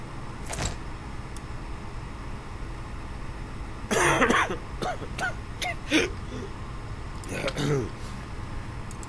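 Several short, rough coughs from a character in the video game Quarantine Zone: The Last Check come in bursts over a steady low background hum, with brief pauses between them.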